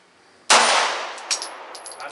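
A shot rings out and a bullet strikes a steel pig target with one sharp metallic clang, followed by a faint ringing tail and small distant knocks.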